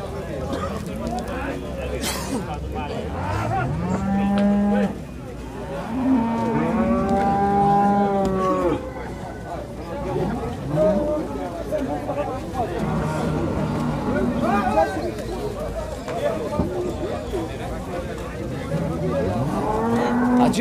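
Cattle at a livestock market in Capoeiras, Pernambuco, moo repeatedly in long drawn-out calls, some near and loud, others farther off, while people talk and haggle throughout over steady crowd noise.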